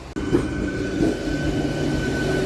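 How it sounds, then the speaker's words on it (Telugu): A Madgaon–Mangalore MEMU train at Madgaon station's platform 2, its low steady rumble and hum filling the air close by after a brief thump at the start, with a faint high whine running throughout. "Madgaon Mangaluru memo train."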